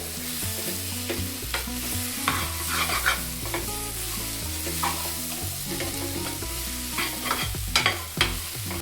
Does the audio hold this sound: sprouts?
yes